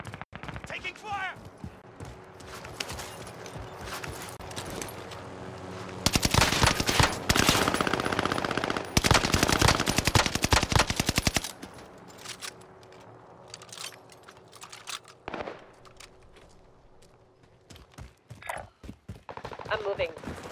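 Rapid machine-gun fire in Call of Duty Warzone, dense bursts dominating the middle stretch, with scattered shots before and after and game voices talking over the action.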